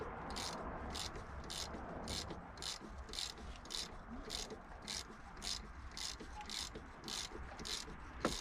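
A ratchet turning a BMW E36 engine over by hand with the spark plugs out, steady evenly spaced clicking strokes repeating close up for several seconds.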